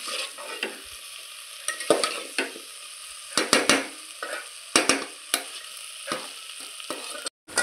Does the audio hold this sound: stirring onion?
yes